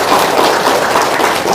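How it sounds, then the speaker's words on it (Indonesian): An audience at a religious talk breaks into applause, a dense, loud, continuous wash of clapping with no pauses. "Tepuk tangan dong."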